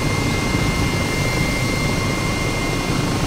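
Steady, loud roar of a helicopter's engine and rotors flying over a large natural harbour at a former seaplane base, a constant wash of noise with no speech.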